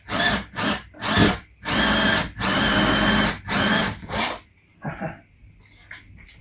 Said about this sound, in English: It's slipping in the drill.